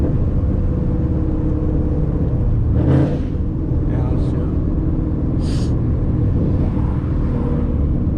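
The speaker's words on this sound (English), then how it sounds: "Downshift." Loud Ford Mustang GT S197 V8 downshifting and revving from the driver's seat, a steady deep engine drone with a brief rev swell, a voice speaking over it.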